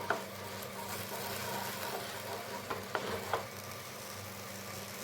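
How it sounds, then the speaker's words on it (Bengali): Egg-potato curry gravy in a pan comes up to a boil with a soft, low sizzle and bubbling, a few light knocks from a utensil breaking in near the end, with no talking. "ঝোল ফোটা শুরু করে দিয়েছে,"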